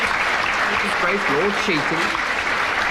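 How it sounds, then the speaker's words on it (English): Studio audience applause at a radio panel comedy show, a broad steady wash of clapping under a voice speaking over it. "he deserves a small modicum of applause"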